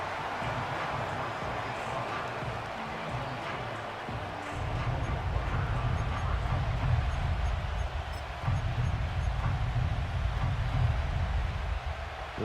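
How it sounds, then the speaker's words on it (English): Stadium crowd noise in the Madden 25 football game, a dense roar that swells louder partway through and holds steady, with no voices standing out. "This crowd turning up the decibel level"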